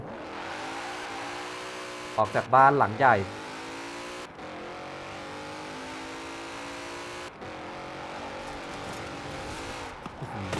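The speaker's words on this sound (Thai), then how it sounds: "เดี๋ยวเราจะเอาคันนี้ออกไปซิ่งกันเลยดีกว่า" A heavy car in the racing game Forza Horizon 4 drives with a steady engine hum and gives a sharp burst of loud revving early on. Someone talks over the engine throughout.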